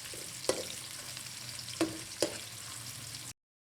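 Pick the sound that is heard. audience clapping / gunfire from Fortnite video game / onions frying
onions frying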